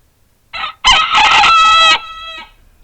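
A garden rooster crows loudly and close up, a short opening call followed by a long drawn-out cock-a-doodle-doo that trails off, with quiet surroundings before and after.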